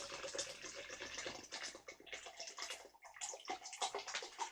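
Chilled water splashes and gurgles steadily as it is poured into a home countertop ICEE machine, a close, bubbly stream with brief gaps, faint overall and with no talk.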